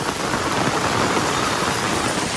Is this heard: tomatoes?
no